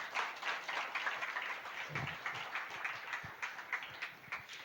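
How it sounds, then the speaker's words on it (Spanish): A church congregation applauds during a sermon on Ephesians chapter 3, a faint, steady wash of many hands clapping, heard from a distance and continuing evenly throughout. "Vamos a dar un aplauso al Señor para que me dejen respirar."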